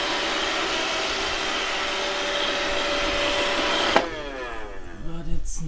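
A Xiaomi STYTJ02YM sweeping and mopping robot vacuum cleaner running noisily, a steady loud whirring hum that cuts off abruptly near the end, followed by brief clatter and a voice.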